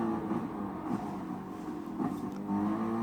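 Racing car engines from a Volkswagen Beetle and a Toyota Supra in Gran Turismo Sport at the Nürburgring 24 Hour circuit, a steady droning engine hum with slight rising and falling revs, continuous and without talk.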